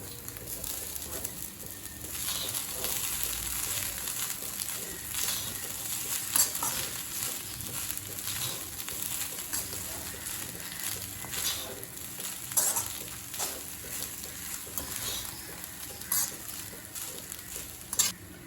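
Coconut rice with ghee being stirred in a pan, with continuous spoon scrapes and light sizzling, close and steady, plus occasional sharper clinks of the spoon against the pan.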